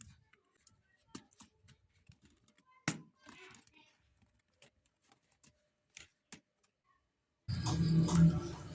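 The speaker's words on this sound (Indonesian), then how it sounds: "ini kita pengangkatan keyboard yang rusak ini ya" Damaged keyboard being pried out of an Asus Pro P1440U laptop: sparse, sharp plastic clicks and taps scattered through quiet gaps, ending in a sudden louder rustling, scraping burst.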